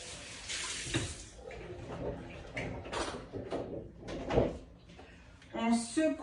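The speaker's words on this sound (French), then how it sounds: "C'est de passer son moule sous l'eau." Running tap water pours as a pastry mould is rinsed in a kitchen while making pistachio-raspberry cakes, a steady close splashing hiss with clattering handling and a person talking in French throughout.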